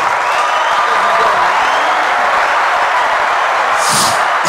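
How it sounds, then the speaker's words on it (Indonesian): Broad, steady applause from a studio audience at an Indonesian talk show, loud and continuous without a pause, with no voices over it. "Oke, boleh tepuk tangan."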